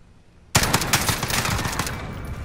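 A sudden loud burst of sustained automatic gunfire in a shooter video game, erupting after a quiet moment and rattling steadily for about two seconds, close and with no talk.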